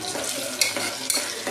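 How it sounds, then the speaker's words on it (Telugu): Onions frying in two tablespoons of oil in a pressure cooker, a short burst of bright sizzling with a couple of sharp spoon scrapes against the metal. "కుక్కర్ పెట్టుకొని అందులోనికి 2 టేబుల్ స్పూన్ల ఆయిల్ వేసి ఆనియన్స్ వేసేస్తున్నాను"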